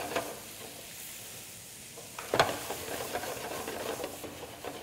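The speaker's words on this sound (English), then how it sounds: "And I'm going to add my garlic. What I want to do is caramelize these together" Garlic sautés and browns in a pan for spruce potatoes boulangère, a quiet steady sizzle with a sharp utensil knock and light scraping stirs partway through, no talking.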